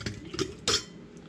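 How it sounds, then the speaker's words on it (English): A few brief clinks and taps of a ladle against a glass canning jar while tomato sauce is spooned in, close and fairly quiet. "I'm going to fill the jar up to a 1/2 inch headspace"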